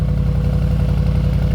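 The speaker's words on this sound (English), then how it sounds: "Nice rumble on cold start this morning." Mercedes G63 AMG with side exhausts rumbling right after a cold start, a steady, deep, close idle with a throbbing low pulse and no voices over it.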